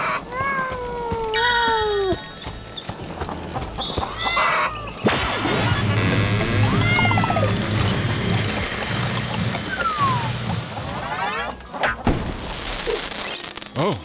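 A cartoonish cat meows from inside a suspicious machine in a video game, rising and falling yowls at the start followed by clanking, whirring machine noises, loud and continuous with no talk.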